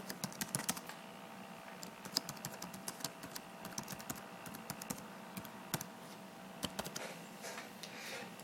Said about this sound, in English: then type in the text you want.